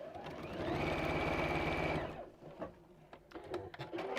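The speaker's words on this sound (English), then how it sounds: "So let's just sew this one across" A sewing machine runs a steady, fast stitching seam across fabric for about two seconds, loud and close, then stops; faint handling clicks and rustles follow.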